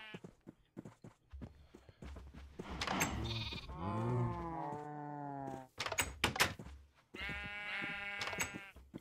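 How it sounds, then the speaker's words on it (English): Several loud, wavering Minecraft sheep bleats sound one after another, close by, mixed with clattering taps and brief gaps. "We've got sheep now."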